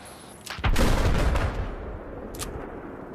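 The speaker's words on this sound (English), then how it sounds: "This is the reload animation of the Unica 6 in Battlefield 4." A pistol reload in Battlefield 4 for the Unica 6 revolver: a sharp close burst of mechanical clatter and impact, fading out, followed by a faint short click.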